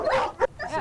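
Dogs rescued from a flooded animal shelter near Columbia, South Carolina, give a short, close bark and whimper, with a quick yip between softer whines.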